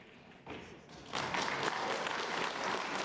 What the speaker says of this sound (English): That ripple of applause you heard before the one we've just had on table 1 was coming from table 2